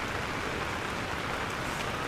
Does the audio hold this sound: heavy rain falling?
yes